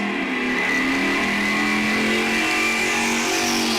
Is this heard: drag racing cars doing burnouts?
yes